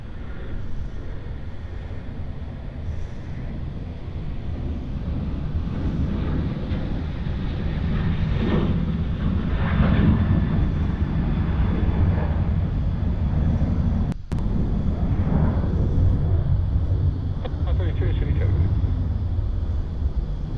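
A Virgin Australia airliner on flight 935 to Brisbane takes off from runway 34 left at Sydney Airport, a steady broadband jet roar that swells and holds for the full stretch under wind noise and some talk.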